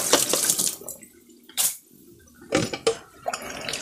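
Water from a blender is poured into a pan of sardines cooking in soy sauce, giving bursts of splashing and trickling with clinks of kitchenware between pours, close and fairly loud with no talk.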